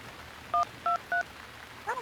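Three short keypad tones sound as a telephone number is dialed, evenly spaced beeps against a quiet background, followed by a brief faint electronic chirp.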